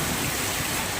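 Unseasonal rain pours steadily in Konkan, a dense, even hiss of drops falling on surfaces nearby, continuous throughout with no voices.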